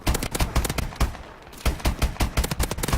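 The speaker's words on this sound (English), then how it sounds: "There was so many shots, maybe like 5 or 6 shots." A burst rifle fires rapid repeated bursts in Call of Duty: Advanced Warfare, loud close cracks in tight clusters that pause briefly midway, then resume.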